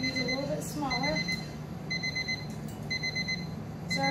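Kitchen timer alarm beeping in short repeated bursts, clear and close, in a home kitchen during vegetable prep, with a person talking over it.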